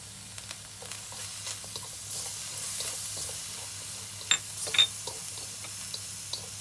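Garlic sautéing with shrimp in a hot pan for a stir fry, giving a soft, steady sizzle with a few brief clinks and stirring scrapes partway through.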